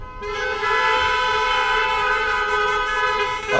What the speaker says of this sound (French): je pensais à un seul coup de klaxon, mais c'est pas mal